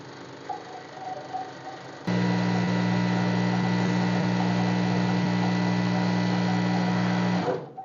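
A sewing machine starts winding thread onto its bobbin after a quieter moment, then runs as a loud, steady motorised whir with a firm hum for several seconds before slowing and stopping.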